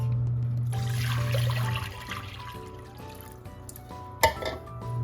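Water poured into a dissolving rock-salt brine for curing mackerel: a soft, fairly quiet stream of liquid splashing and trickling into a container, ending with a sharp knock, over a low background hum.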